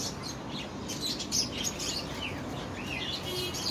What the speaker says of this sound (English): Pond, got some birds.